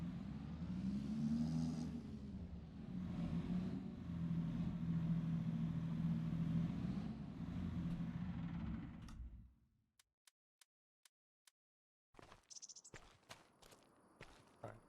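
A tractor engine idles and rumbles steadily at close range for about nine seconds, then cuts off, leaving a few isolated ticks and clicks followed by scattered clatter and rustling.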